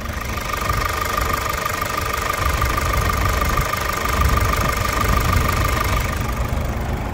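A Toyota SW4 engine idles steadily nearby, a constant mid-pitched hum with a faint knocking rattle underneath, holding at an even loudness with no talking.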